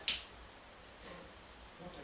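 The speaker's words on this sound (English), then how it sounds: "Now that's him giving his warning. Nothing like the male and the female made a minute ago. It's a tiny little buzz, that's its rattle." A small western diamondback rattlesnake gives a faint, thin, continuous rattling buzz as a warning, quiet and close, after a brief sharp sound at the start.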